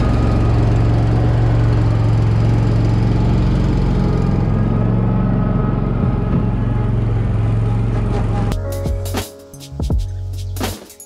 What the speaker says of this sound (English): Let's see if I can get on this mower one-handed because the GoPro's in the other one.